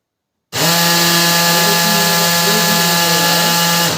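A Canon MF221d printer with a gear fault, bursting after a half-second of silence into a loud, steady grinding drone with a persistent tonal whine that keeps on to the end.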